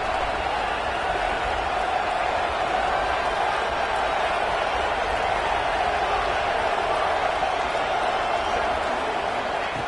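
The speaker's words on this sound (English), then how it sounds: "listen to this crowd noise. This stadium is vibrating." A dense, constant roar from a packed stadium crowd at a Georgia vs Houston football game, loud and unbroken throughout.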